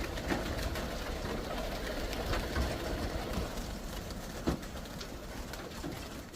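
Young pigeons coo softly in a loft, with faint wing flutters and rustling amid steady background noise, no talking.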